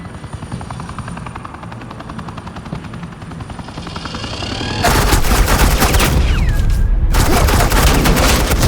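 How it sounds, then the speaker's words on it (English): Suppressing gunfire in a video game erupts loud and sustained, a dense rapid burst over a steady helicopter-like drone, with a brief descending whine partway through. "This is Agent Quinn, suppressing fire."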